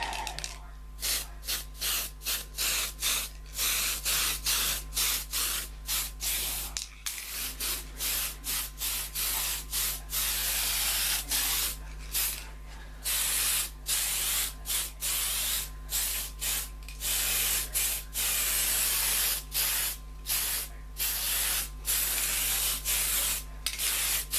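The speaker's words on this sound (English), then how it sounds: "So I'm going to give it a final coat of paint." Spray paint hisses out in a long series of short bursts and steady passes as a final coat goes onto a 1/350 scale model ship hull, close by, over a low constant hum.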